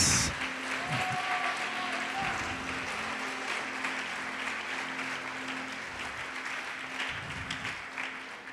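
Church congregation applauding together during a worship service, a steady broadband wash of clapping throughout, with a voice and music faintly beneath it.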